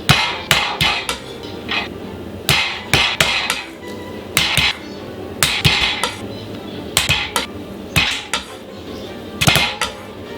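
Pork medallions being pounded flat on a cutting board, a run of sharp, close knocks arriving in uneven clusters of two to four with short pauses between.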